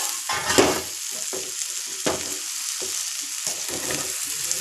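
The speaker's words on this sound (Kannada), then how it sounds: "ಎಣ್ಣೆಯಲ್ಲಿ ಫ್ರೈ ಮಾಡ್ಕೋಬೇಕು" Stuffed bitter gourd fries in hot oil with a bright, crackling sizzle, broken by several scraping stirs and pan knocks, close and fairly loud with no talk.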